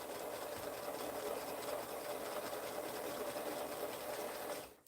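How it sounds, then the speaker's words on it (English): A sewing machine stitches quilt fabric at a steady fast pace, producing a continuous close mechanical whir and rapid needle chatter that stops abruptly at the end, with no talking. "you're guiding the fabric into the sewing machine"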